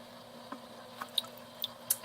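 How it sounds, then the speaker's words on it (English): Water drips during drip acclimation of corals: a handful of small, quiet, irregular drops and plinks over a faint steady hum, with no talk. "So they're drip acclimating right now."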